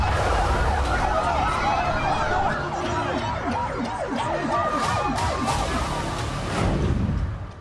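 A wailing ambulance siren in war-torn Gaza, loud and continuous, cycling up and down under rumbling traffic and crowd noise, with faint voices mixed in.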